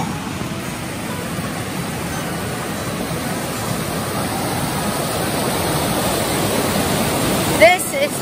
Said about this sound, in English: The river water is not as bad as the Zapata Falls one.